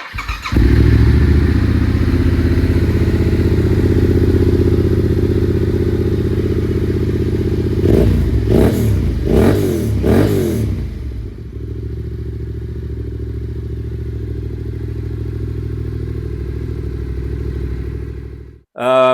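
A Yamaha T7 motorcycle with a full titanium Akrapovic exhaust idles loudly and steadily, with a burst of revving partway through before settling back to a constant drone that cuts off near the end.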